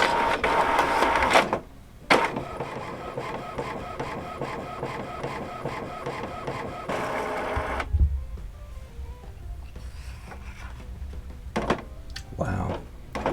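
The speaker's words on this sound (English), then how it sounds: "wait for the printer" A photo printer runs steadily with a mechanical whir and rhythmic feed clatter, then pauses and finishes with a few clunks and thunks.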